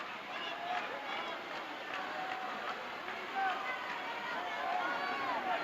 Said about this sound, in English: the crowd here is now getting after Slater, and they are really vocal and noisy